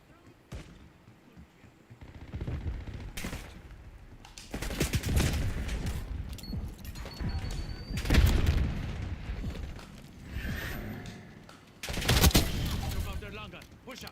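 Gunfire in Call of Duty Black Ops 6 during a competitive match, with sharp, loud bursts and booms recurring across the stretch, mixed with other game noise and voice chatter.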